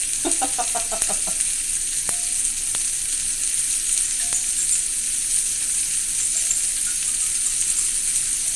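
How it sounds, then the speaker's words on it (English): Steady, close sizzling hiss of hot dogs frying on a grill, continuous throughout, with a few faint clicks and pops early on and no talking. "Sizzling weenies."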